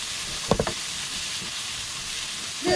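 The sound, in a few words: tender jackfruit thoran stirred with spatula in non-stick pan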